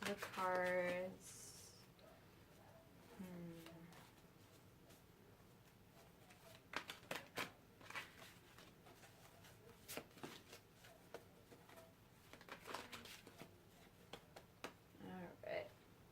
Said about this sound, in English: with the tarot and shuffle it up